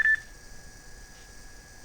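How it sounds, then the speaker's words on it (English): A phone gives a short electronic beep at the start, then goes quiet over a faint steady background hum. "My phone just beeped."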